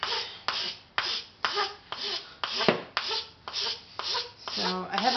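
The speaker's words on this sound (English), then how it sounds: "now I sand." A double-cut file rasps in steady, rhythmic strokes, about ten close, loud passes at roughly two per second, each a gritty scraping burst with brief pauses between.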